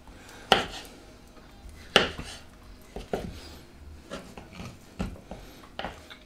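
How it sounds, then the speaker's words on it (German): Knife chopping avocado and mango on a cutting board, with sharp, distinct knocks at irregular intervals and softer cutting scrapes between them, heard up close with no talking. "Mit der Avocado, sorry. Die zwei schneide ich mir."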